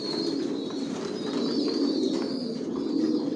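Racing pigeons of the Janssen line cooing in a loft, a dense overlapping murmur of low coos from many birds close by, with faint chirps above and no talk.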